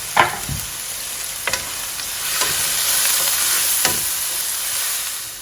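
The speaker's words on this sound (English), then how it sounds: "I'm going to add the chopped up onions. Just going to cook this for good 8 to 10 minutes until lovely and golden." Chopped onions frying in a pan for a pepper and cashew nut chicken curry, a steady close sizzle with occasional stirring clicks and scrapes, no talking.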